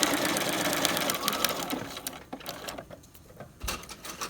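A sewing machine running through quilted fabric with a long stitch, a close mechanical whir that slows and breaks into scattered clicks and thumps toward the end.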